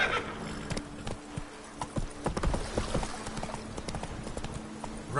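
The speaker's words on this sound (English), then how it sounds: "Run, Roach" A horse gallops in The Witcher 3 video game, with rapid, rhythmic hoofbeats, a whinny and occasional sharp impacts over a faint background.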